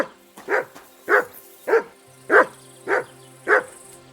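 Mutt the dog in Kingdom Come Deliverance 2 barks six times at a steady, evenly spaced rhythm, each bark sharp and close, with no talking over them.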